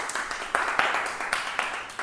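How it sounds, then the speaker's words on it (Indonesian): A small group claps and applauds, short uneven bursts of hand claps at moderate volume. "Tepuk tangan dulu untuk kelompok lagi."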